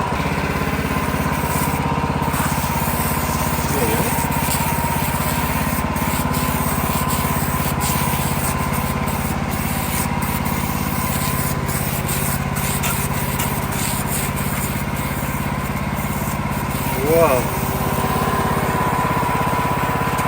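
A homemade sawmill cuts through a log with a steady, loud, continuous engine-driven blade drone and grinding rasp that holds unbroken throughout, with no talk over it.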